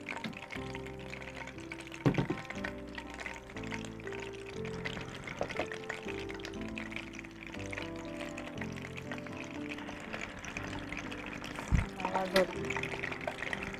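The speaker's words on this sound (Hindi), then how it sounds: "इसमें थोड़ा सा ऑयल और डालेंगे" A little cooking oil pours into a pot while preparing chicken pasande, a faint liquid trickle and pot clinks beneath ongoing conversation between two people.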